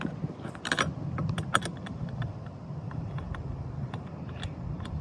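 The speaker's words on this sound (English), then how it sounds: "you're going to tighten up these screws" Screws being tightened on KINGGERI cross bars of a 2022-2026 Hyundai Tucson roof rack: a run of small metallic clicks and taps, close and fairly quiet, with a brief louder burst of rattling near the start.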